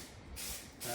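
Aerosol spray can spraying paint onto a Bronco tailgate for a fake patina finish, giving two broad hissing bursts, the first starting partway through, a short gap, then a second, louder burst near the end.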